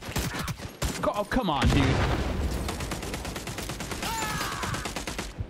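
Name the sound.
gunshots from a video game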